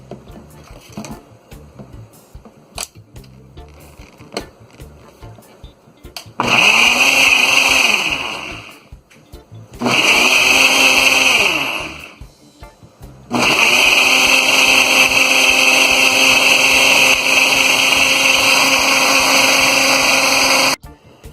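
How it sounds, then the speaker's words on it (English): A kitchen blender blending green juice runs in three loud bursts: a short whirring run, a pause, another brief spin, then a long sustained high-pitched roar, with quieter rustling and handling sounds before it starts. "So we need to mix this around and blend again."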